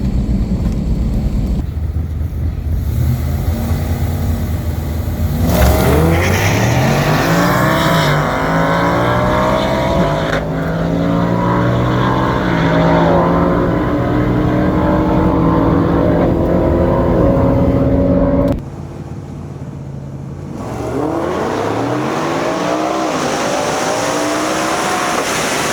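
A drag car running E50 fuel makes a strip pass, its engine roaring loud and close as it climbs through the gears with clear shifts, then drops to a lower idle-like rumble before building again near the end.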